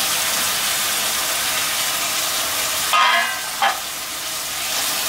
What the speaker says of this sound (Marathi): जरा टोमॅटो मऊ होईपर्यंत आपल्याला हा कांदा टोमॅटो परतायचा आहे